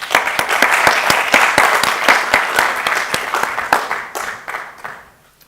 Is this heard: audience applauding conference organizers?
yes